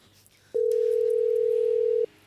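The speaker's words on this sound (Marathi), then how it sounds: "डॅडीसनीच फोन लावतो मी" A telephone tone sounds while a call is placed from home, a single steady pure beep lasting about one and a half seconds, clear and close, with faint room noise before and after.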